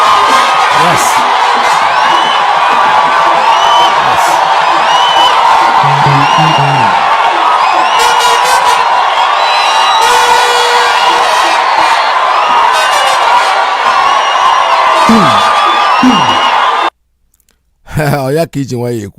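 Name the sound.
crowd cheering ecstatically at a rally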